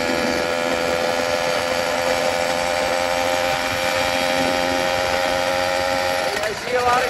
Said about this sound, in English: This is how a bike should sound. Smooth, going up the speed.